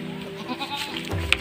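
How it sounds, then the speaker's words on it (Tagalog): A goat gives a short bleat while being fed, close and fairly quiet over a murmur of background noise, with a sharp click near the end. "Yan, inuha lang ka ng kambing."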